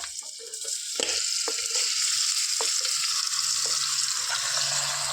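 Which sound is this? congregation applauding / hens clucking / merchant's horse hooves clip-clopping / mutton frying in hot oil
mutton frying in hot oil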